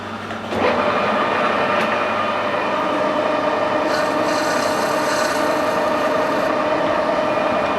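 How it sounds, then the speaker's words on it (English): A hand die cuts a thread up a brass bolt with a steady, close, continuous rasping and rubbing that carries on without a break, and no one speaks. "for brass I'm just going to run a die up it"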